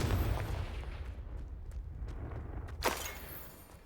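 Fire spell Incendio cast in the video game Hogwarts Legacy, a sharp whooshing burst of flame near the end of a short clip, rising over a low rumbling background of game ambience and other spell effects.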